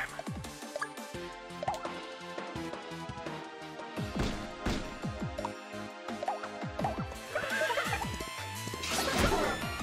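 In the Miitopia video game, a horse whinnies repeatedly in bursts over about ten seconds, loud and close, with a few clip-clop hoofbeats mixed in.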